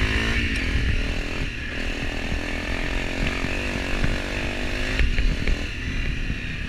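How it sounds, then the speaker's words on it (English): A Beta 350 dirt bike rides up on the lanes, its engine loud and close with a steady, rising drone and shifting pitch, running continuously. "And Hippodrones on his Beta, the 350, the new Beta."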